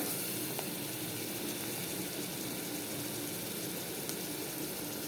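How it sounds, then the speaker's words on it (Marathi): Onion paste frying in a pan for biryani, a steady, soft sizzling hiss that stays even and unbroken from start to finish, close and fairly quiet, with no voices over it. "त्यानंतर कांद्याची पेस्ट येईल. व्यवस्थित याला भाजून घ्यायचं."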